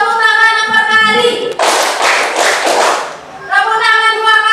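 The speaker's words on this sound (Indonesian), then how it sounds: "Tepuk tangan 4 kali." A group claps hands in a brief burst of several quick claps, loud and close, set between stretches of sustained tonal sound.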